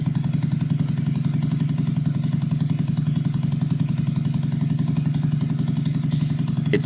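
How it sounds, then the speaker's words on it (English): A used motorcycle engine, fresh from an oil change, idles steadily and a bit high, its rapid even chugging and mechanical clatter continuous and close, with a brief blip at the end. "It seems to be idling very nice now."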